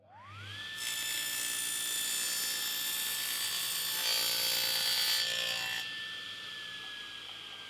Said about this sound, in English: using your table saw, trim off the other edge